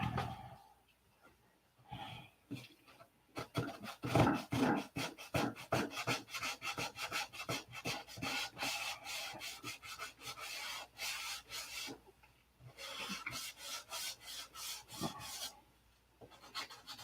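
Rhythmic rasping strokes of sandpaper on a hand-held sanding grip rubbed back and forth across wood, with a few brief pauses between bursts of scrubbing.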